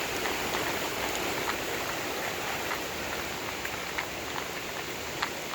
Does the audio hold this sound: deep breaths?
no